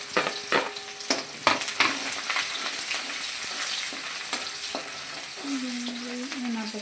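Chopped onion hitting hot oil in a pan for a spiced Indian-style pasta, with a steady close sizzle and crackle plus sharp clicks and scrapes of stirring throughout.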